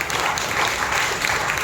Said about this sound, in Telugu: బిగ్గరగా చప్పట్లు కొట్టి ప్రభువు